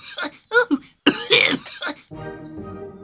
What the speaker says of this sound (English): Did he just cough the fishbone out?